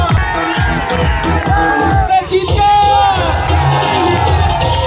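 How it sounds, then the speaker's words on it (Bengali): A crowd shouting and whooping together, loud, close voices with rising yells and cheers and some strong low thumps, at a night outing to Mawa on the Padma river. "আরে পূর্ণিমা শাড়ির জন্য একটা জোরে চিৎকার"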